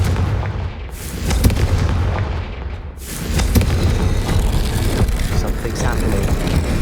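Confringo fire spell explosion in the Hogwarts Legacy video game during a Merlin trial, a loud dense blast with rumbling low end that swells again midway and sustains under busy game sounds, with a voice talking over it.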